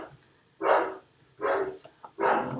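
Several dogs barking at a wedding, three loud bursts of barking with short pauses between, close by and with no voices.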